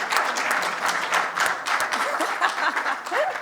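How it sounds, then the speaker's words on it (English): Steady audience applause at a workshop session, a dense continuous patter of many hands clapping at moderate volume, with faint scattered chuckles and a few voices underneath. "maybe you can clap for me also"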